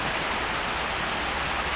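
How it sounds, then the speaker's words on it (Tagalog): Heavy rain pours down steadily in a rural setting, a dense, even hiss with no pauses and no voices. "malakas rin pala ang ulan dito"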